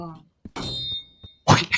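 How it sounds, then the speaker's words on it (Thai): An axe strikes an object in a Roblox game, giving short metallic clangs and thunks, including one loud sharp hit near the end, mixed with excited talking. "เอาขวานตีมันขวานตีมัน"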